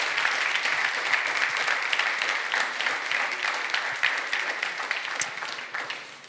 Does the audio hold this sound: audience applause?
yes